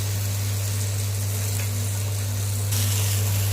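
Pizza paratha roasting on a hot griddle gives off a steady, moderately loud sizzle with a low constant hum beneath it, growing slightly brighter near the end, with no voices.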